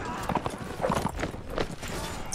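Hoofbeats of a horse in the video game Mount and Blade: Warband, a quick run of clopping steps mixed with other game noise and a bit of voice, fairly close.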